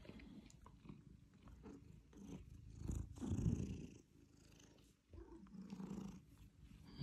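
A cat's low, rumbling purr sounds close up as she lies on someone's foot, with soft shuffling and rustling over it.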